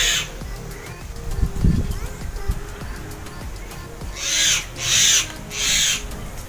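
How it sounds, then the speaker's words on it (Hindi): Outdoor birdsong with loud, harsh squawking calls, three distinct bursts near the end over a steady background of wind and rustle. "ये पक्षियों की चिकती हुई आवाज़, बहुत मज़ा आता है।"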